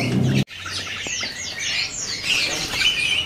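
Rapid, bright chirping from a big-bodied cucak kebo (terucuk kebo) songbird, the calls repeating steadily and fairly close after a brief thump at the start.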